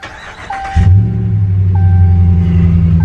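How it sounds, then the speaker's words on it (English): A 2018 Dodge Ram 1500 Night Edition pickup starts with a push button: a faint chime, then the engine catches with a sudden deep rumble and settles into a steady, loud idle. "let's fire it up. Push button start."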